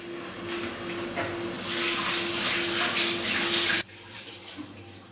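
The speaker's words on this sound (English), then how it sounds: "I'm going to wash my hands again." Tap water runs steadily into a sink during a kitchen cookery session while making stuffed aubergine, a broad rushing splash that holds for several seconds and then cuts off abruptly, leaving a quieter room background.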